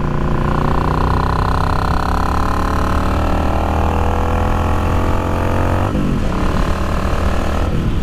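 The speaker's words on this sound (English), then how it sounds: "So guys, we're just out road testing the Dynatek 3000 performance ignition for the XVS650." Yamaha XVS650 motorcycle fitted with a Dynatek 3000 performance ignition on a road test ride: a steady, close engine drone that climbs slowly in pitch, then dips briefly near the end as the throttle changes.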